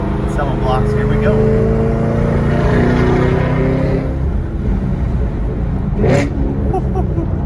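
A 650hp Camaro ZL1 pulls hard through second gear around a corner, its engine roaring loud and close from inside the cabin, with a voice speaking over the run.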